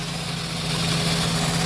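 A car engine idles roughly with a misfire while the radiator cooling fan runs, giving a steady close hum and whir with a low drone throughout.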